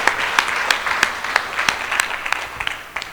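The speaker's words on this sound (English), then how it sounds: "Can we give Arya a clap?" An audience claps steadily for a performer at a night gathering of a Sri Ganesh yagya, dense applause with distinct sharp claps throughout, fairly close and sustained.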